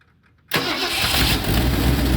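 After a moment of near silence, the V8 in a 1970 Mustang abandoned for decades cranks and catches abruptly, then settles into a loud, steady, rough running roar close by.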